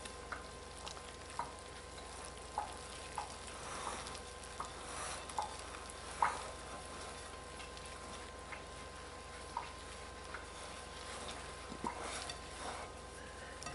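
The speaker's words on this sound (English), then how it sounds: "We stir it." Bread dough mixture for a farmer's bread being stirred in a bowl, giving soft, steady scraping with light, regular ticks. The sound is faint and close, and no one speaks.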